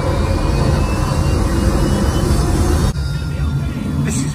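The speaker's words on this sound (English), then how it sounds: "God, that's a great plane." An airplane in an action film scene, a loud, steady engine drone that drops off abruptly near the end into a lighter background hum.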